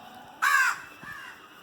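A single crow gives one loud, harsh caw close by, followed by a fainter second call over a quiet background.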